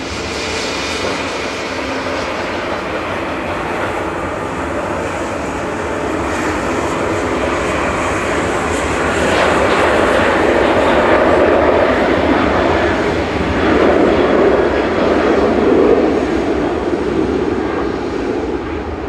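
Boeing 737-800, an 18-year-old jet registered G-TAWZ operating flight 2686 at Manchester Airport, roaring steadily with jet engine noise that swells louder midway and stays strong to the end, with no voices.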